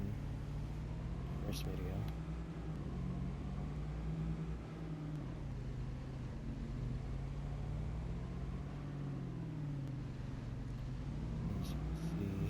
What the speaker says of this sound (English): I forget how loud this truck is